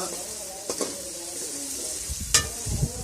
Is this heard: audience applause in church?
no